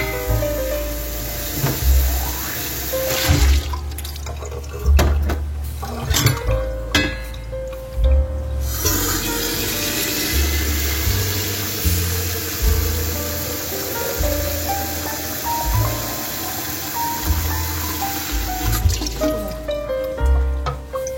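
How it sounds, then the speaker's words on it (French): Tap water running into a watering can and a bottle, a loud continuous gush whose pitch rises as each container fills, with occasional clinks and drips between fills. "je vais remplir mes arrosoirs"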